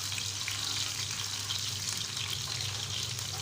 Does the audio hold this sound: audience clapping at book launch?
no